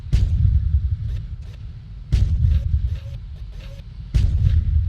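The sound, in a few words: electric tank cannon firing in video game Tanki Online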